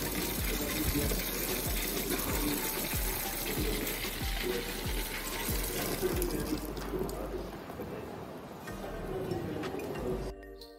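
Water runs steadily from a loosely closed tap in a school water-saving setting, a continuous rushing hiss that stays loud throughout and cuts off abruptly near the end.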